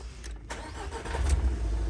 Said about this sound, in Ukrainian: зараз ще двигуна заведу